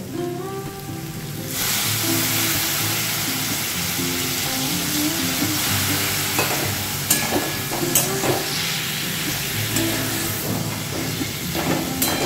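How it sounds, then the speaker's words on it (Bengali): Ridge gourd frying in a pan just after a splash of water, a dense steady sizzle and crackle with occasional sharp pops, close and continuous with no talking. "একটু ঝিঙেটা কচকচে করছে, সেইটা যাতে ঠিকমতো ভাজা হয়ে যায় সেই জন্য একটু জলের ছিটে দিলাম"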